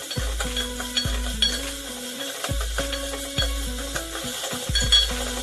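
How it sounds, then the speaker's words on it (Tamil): Tomatoes sautéing in a pan for a red cowpea gravy, with a few scraping stirs over a quiet sizzle and occasional clinks of utensil on metal; no talking. "தக்காளி நல்லா வதங்கட்டும்"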